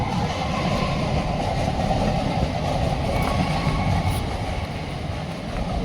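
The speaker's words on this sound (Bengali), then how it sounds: "ট্রেন ঢুক ট্রেন বেরিয়ে যাচ্ছে আপ ট্রেন" An up train passing near a station, a steady low rumble and rolling clatter of railway cars sustained at moderate loudness throughout, with no voices.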